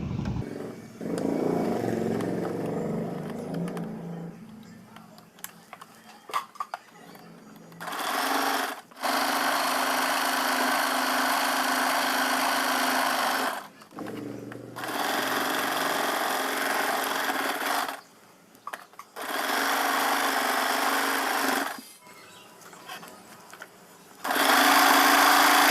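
A sewing machine stitches pleats into a salwar in several long steady bursts of whirring, each lasting a few seconds, separated by short pauses with faint handling sounds, close and clear with no talking.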